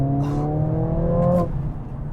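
Mercedes-AMG CLA 45 engine revs hard with a rising, buzzy harmonic tone for about a second and a half, then drops off abruptly into a lower rumble, close and loud.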